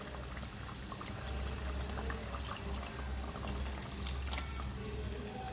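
Water poured into a pan of mutton and okra (bhindi gosht) to make gravy, a continuous sizzling, bubbling wash of liquid at moderate loudness with no speech.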